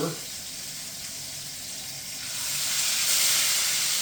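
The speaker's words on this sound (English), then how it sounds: "You do want a nice sear at first." Bone-in pork chops searing in a hot pan, giving a steady broadband sizzle that swells louder partway through and holds close and even, with no talk over it.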